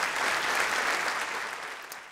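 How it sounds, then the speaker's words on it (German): A crowd in a German town hall gives a steady round of applause during a live travel-story show, a dense even patter of many hands that stays full and slowly eases off slightly. "Also an dieser Stelle mal bitte einen riesigen Applaus für all die Genannten."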